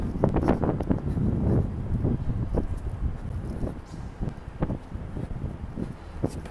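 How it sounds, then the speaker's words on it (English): Steady gusty wind buffets the microphone by the Hong Kong waterfront, with low rumbling thumps and rushing noise, continuous throughout and fairly loud. "It is windy, yeah."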